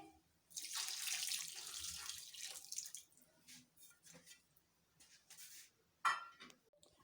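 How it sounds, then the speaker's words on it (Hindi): Rice cooking water poured from a cup into a pot of marinated chicken, a brief splashing pour followed by a few faint drips and a small clink, close and quiet. "1 कप चावलों का पानी जिनमें हमने चावलों को बॉईल किया था वो इसमें डाल देंगे।"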